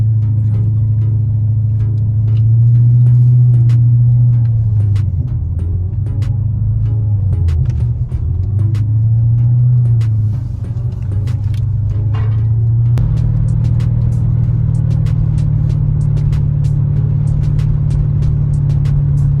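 A Mercedes C55 AMG with a modified exhaust drives along, its deep, loud exhaust drone rising and falling as the car accelerates and eases off, then settling into a steadier, slightly higher cruising note near the end.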